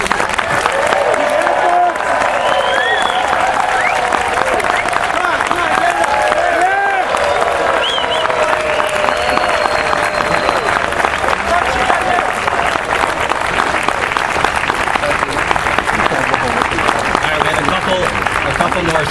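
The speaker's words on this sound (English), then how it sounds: "give Butch a sustained round of applause" Audience gives a long, sustained round of applause and cheering at a tribute event, dense steady clapping from a large crowd throughout, with a voice speaking faintly over it.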